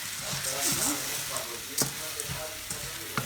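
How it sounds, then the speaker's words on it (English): Orzo tipped into a frying pan of caramelized onion, leek and peppers in oil, giving a steady close sizzle with a few sharp clatters and stirring knocks. "And now we're just going to put in our orzo."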